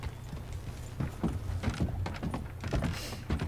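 Horse hooves clip-clopping in Red Dead Redemption 2 as a rider moves through a town, a series of irregular thuds over a low steady ambient hum.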